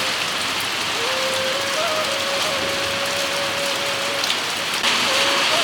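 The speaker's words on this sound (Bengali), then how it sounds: "পুরা বৃষ্টি হচ্ছে শিলিগুড়ি" Heavy rain pours down in Siliguri, a dense, steady hiss that fills the whole stretch without break, with a faint thin tone running beneath it.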